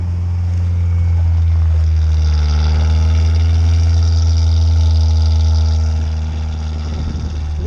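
A carbureted Lada engine, after sitting three weeks in minus 34 degree cold, cranks over and catches, settling into a loud, steady rumbling idle with a low throbbing tone, close by and without talking.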